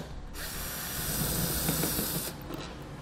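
A ratchet with a T20 Torx socket turns out the third brake light bolts on a 2016 Chevrolet, giving a steady close-up buzz of fast clicking that runs for about two seconds before stopping.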